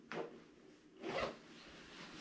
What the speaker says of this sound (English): and then you zip up your net.